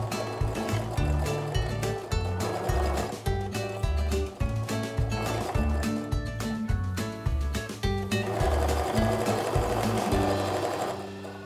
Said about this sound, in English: now I'm gonna set my sewing machine up to sew a quarter inch seam